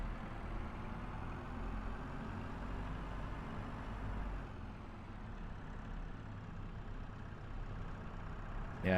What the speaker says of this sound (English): Yeah, that tractor over here, it's very loud.